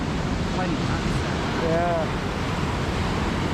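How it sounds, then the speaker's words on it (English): A waterfall in a Scottish glen pours in a steady, full rush of white noise close by, while someone briefly speaks over it. "Check this waterfall."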